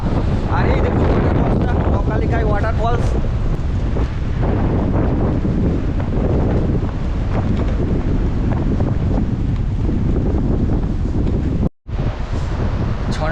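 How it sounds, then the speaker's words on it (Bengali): Strong monsoon wind blows near Nohkalikai Waterfall in Cherrapunji, Meghalaya, roaring loudly and buffeting the microphone without pause, with a brief dropout near the end. "খুব জোরে হাওয়া দিচ্ছে"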